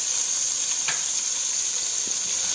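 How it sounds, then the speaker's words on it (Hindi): Cumin and ginger garlic paste fry lightly in a pan, producing a constant high hissing sizzle, close and even, with a couple of faint utensil taps. "तो अब इसको हल्का सा हमने फ्राई कर रहे हैं"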